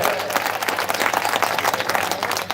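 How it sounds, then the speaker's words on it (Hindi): An audience applauds loudly and continuously at an award-ceremony final round in Obaidullaganj, with dense clapping from a crowd filling the room. "मैं चाहूंगा कि उनके लिए भी एक बार जोरदार ताली बजाएं"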